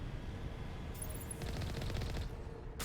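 Automated defense turrets firing in Mass Effect Legendary Edition, a dense, continuous rattle of rapid gunfire that holds steady at close range for the whole stretch with no voices.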